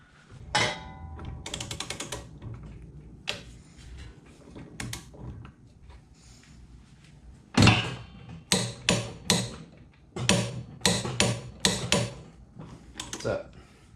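Ratcheting wrench clatters in close bursts while tightening a bolt to 60 foot-pounds on a CT200-U minibike engine, with repeated sharp metallic clicks and knocks in a workshop.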